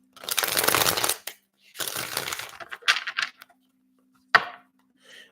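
Tarot cards are shuffled in several quick riffling bursts, separated by short pauses, followed by a sharp tap and a soft final rustle.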